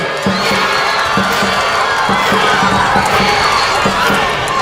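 Spectators at a dragon boat race cheer and shout in a loud, steady roar of crowd noise with rhythmic beats pulsing underneath, close and continuous.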